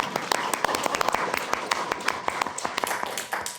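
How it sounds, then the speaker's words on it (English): Sparse, uneven clapping at a city council meeting, as a small room applauds a city manager honoured at an employee service awards presentation, with distinct individual claps close by. "You can applaud if you'd like, just for Al."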